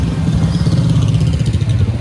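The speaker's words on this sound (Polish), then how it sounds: "O, wszędzie motocykle dookoła." Motorcycle engines droning and buzzing close by on a busy street in Barahona, Dominican Republic, a continuous low rumble of several bikes passing with light clatter and traffic noise around.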